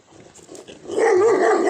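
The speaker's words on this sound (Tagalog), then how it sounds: "Yun o. Laki ng aso." A big dog barks in Szczecin, Poland, a loud, close, strained bark with a growling edge that swells after a quieter start and holds to the end.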